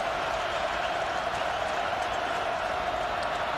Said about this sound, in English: And the crowd knows it as they begin to make some noise.